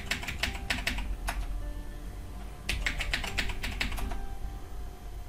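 Bursts of keystrokes on a computer keyboard while a password is entered during a MariaDB install, two clusters of quick, fairly close clicks separated by a short pause over steady room hum.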